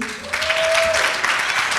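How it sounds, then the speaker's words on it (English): An audience at an entrepreneurship intervarsity competition claps after a presenter's time runs out, with a brisk burst of hands filling the room under a brief voice. "Can you clap hands for him?"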